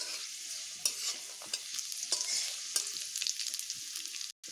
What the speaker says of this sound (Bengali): রসুনগুলোকে আমি একটু ভালোভাবে এইভাবে ভেজে নেব